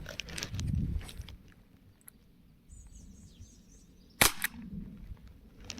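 Airsoft replicas fire at a cardboard target outdoors. Faint rustling and handling noise comes first, then one sharp, loud snapping crack stands out, followed by quieter movement.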